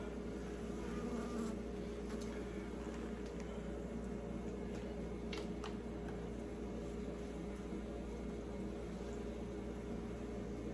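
Honeybees humming steadily inside a glass aquarium-style observation hive as frames are installed, a continuous close, even buzz with a few faint clicks and taps over it.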